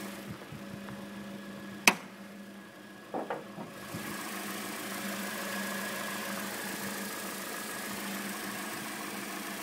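Toyota 1.8 liter VVTi four-cylinder in a 2013 Corolla S idling, a steady low hum after a couple of sharp clicks and thumps, close and even.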